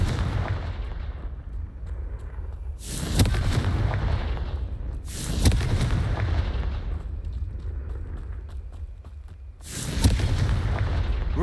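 Blasting-spell explosions go off in the Hogwarts Legacy video game, with three loud, booming blasts, each trailing into a long rumbling decay over a low background roar.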